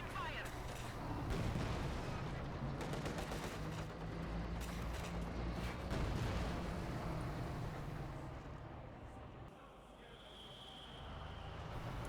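MG34 machine gun fire in a Company of Heroes 2 battle comes as rapid bursts of sharp cracks among rumbling battle noise, held under continuous spoken commentary.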